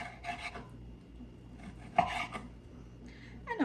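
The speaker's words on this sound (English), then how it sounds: "So now this is a nice piece. And cut it into cubes." A kitchen knife cutting beef into cubes on a board for souvlaki skewers: a few close, separate chopping thunks and scrapes spaced across the clip, with no talk.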